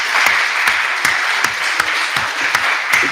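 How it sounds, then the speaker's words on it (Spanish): Audience applause at a lecture on railway collecting, a steady dense wash of many hands clapping close by, with a few louder individual claps standing out, continuous and alone throughout. "Pues entonces le damos un aplauso."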